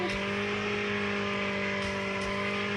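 A car engine from a battle royale video game hums at a steady pitch as the vehicle drives along, the drone holding constant with brief surges and no talking.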